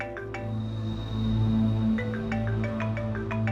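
A mobile phone ringtone plays a steady melodic tune indoors in a drama scene, sustained tones repeating at moderate volume with no talk over it.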